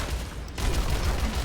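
A big gun fires in Overwatch 2, giving a rapid, dense burst of gunfire over ongoing game noise, moderately loud with no talk.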